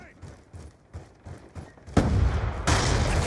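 Call of Duty Black Ops 2 online match: a run of sharp, evenly spaced gunshots from a rapid-firing weapon, then a loud, heavy frag grenade blast that rolls on into more loud roaring noise.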